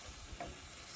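Shrimp frying in a hot pan for a seafood lasagna, giving a steady, close sizzle with a brief stirring scrape partway through, no voices.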